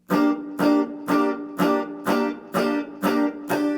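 Eight evenly spaced, punchy guitar chord stabs pulse in a steady rhythm, each struck sharply and cut short, played alone and loud.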